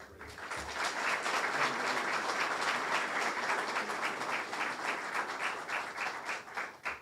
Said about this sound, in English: once again, a nice round of applause for our Chief of Police, Mr. Orlando Rodriguez.